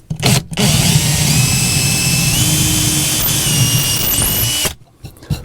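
A power drill loudly drives a screw into a wall stud while mounting a closet shelf, a single sustained whine of about four seconds close up that stops abruptly.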